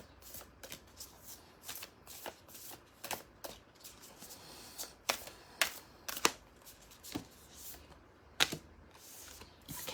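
Playing cards are shuffled for a psychic reading, quiet riffles and soft snapping flicks in an irregular rhythm, close and faint, with no talking.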